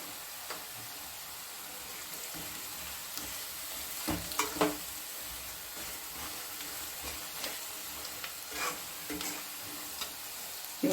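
Sliced onion fries in a pan with turmeric and salt for lemon rice, giving a soft, steady sizzle. Occasional spoon scrapes and clicks against the pan come at irregular intervals, fairly quiet and close.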